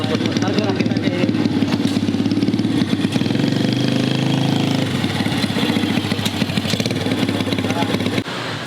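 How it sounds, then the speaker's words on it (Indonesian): A student-built motorcycle at a vocational school runs steadily nearby, its mid-pitched engine idling and revving briefly, with people talking over it. "nah sekarang ini ada motor salah satu buatan siswa di SMK PGRI 2 ini"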